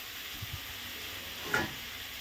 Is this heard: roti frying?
yes